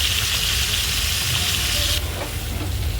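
Chicken frying lightly in a pan gives a loud, continuous, close sizzle with a constant hiss and crackle, dipping slightly partway through but never stopping, with no voices.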